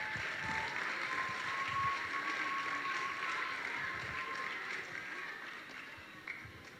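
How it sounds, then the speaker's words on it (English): Applause from children and adults at a lower primary school award assembly, a steady, moderately quiet wash of clapping that slowly tapers off. "Please give them a round of applause."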